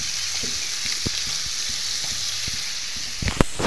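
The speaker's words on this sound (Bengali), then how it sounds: "এই যে দেখো আমার বোন ম্যাগি বানাচ্ছে" Maggi noodles cook in a pot with a steady, close hissing sizzle, broken by scattered light clinks and scrapes of stirring.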